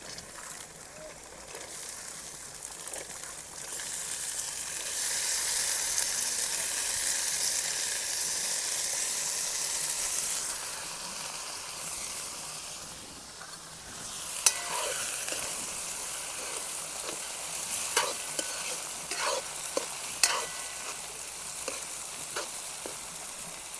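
Sola beans tipped into fried onion crackle and hiss in a pan during village cooking, a steady sizzle broken later by sharp stirring clicks and scrapes.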